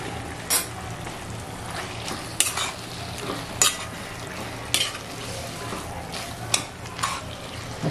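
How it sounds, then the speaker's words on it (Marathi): Prawns, coated in turmeric and salt, fry in a masala for prawn rice, with a steady sizzle under repeated scraping and stirring clatter from a utensil in the pan, close by and without talk. "आता ह्याच्यात मी कोलंबी टाकते."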